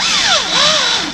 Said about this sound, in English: It's always good to check after you start drilling.